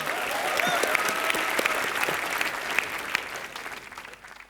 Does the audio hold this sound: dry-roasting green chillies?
no